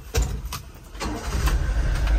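A 1995 Honda Acty work truck, a small kei pickup just in from a farm, cranks briefly and fires up, then settles into a steady, close engine idle with no one speaking.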